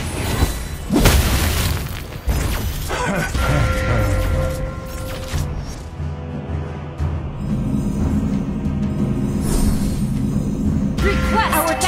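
A turret blowing up in Mobile Legends: a heavy boom and crash near the start, then rumbling game effects and clashes, with an announcer voice speaking over the mix.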